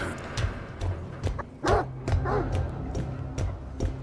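A dog in the video game Stalker 2 barks several times in short yelping bursts, moderately close, with a low game ambience underneath and no talk.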